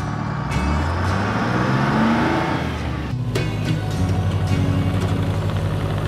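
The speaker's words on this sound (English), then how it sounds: "Mixer truck." A concrete mixer truck's engine rumbles close by, the deep continuous drone rising and falling in pitch as it revs, with a brief clatter midway and no voices.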